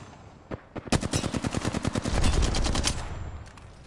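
Rapid automatic gunfire in a trios kill-race shooter game, a fast burst of sharp shots after a couple of single cracks, loud and up close with no talk over it.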